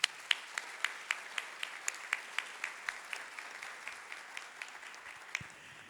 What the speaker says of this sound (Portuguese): A querida Cris Meneghello, por favor, uma salva de palmas.